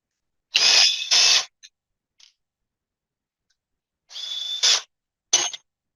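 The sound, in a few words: removing loose bolts from Hyundai Kia A6 transmission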